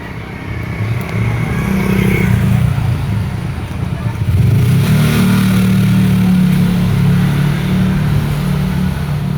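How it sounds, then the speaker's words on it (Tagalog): Several vehicle engines run loud and close by a beach at a family reunion in Camarines Sur, with a continuous rumbling drone that swells around the midpoint and stays heavy. "Lalakas ng makina mga sasakyan dito mga guys."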